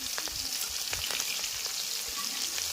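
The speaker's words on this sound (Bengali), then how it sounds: "এখানে পেঁয়াজ কুচিটা আমি লাল লাল করে ভেজে নেবো পেঁয়াজটা" Chopped onions fry in a kadai with a dense, even hiss close by, marked by faint crackles and ticks throughout. No voice is heard.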